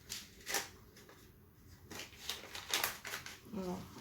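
A paper packet of radish seeds is torn and crinkled open by hand on a balcony garden, close and soft crackling rustles in short bursts alongside a few spoken words.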